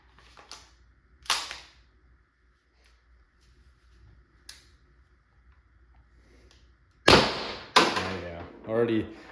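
A First Strike less-lethal launcher fires off its magazine as a few sharp, scattered pops spread over several seconds, with a louder cluster of bangs near the end blending with a brief voice.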